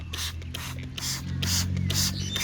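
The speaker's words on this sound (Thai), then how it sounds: "ไตก็จะสเปรย์รดน้ำไป เฉพาะครั้งแรกนะคะทุกคน" A hand spray bottle mists water over freshly sown coriander seeds in soil, giving about seven short hissing bursts in quick succession over a low steady background hum, close and fairly loud.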